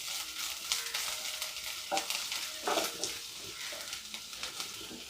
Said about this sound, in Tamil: இஞ்சி பூண்டு பேஸ்ட் வாசனை போகிற வரைக்கும் இதை நம்ம வதக்கிப்போம்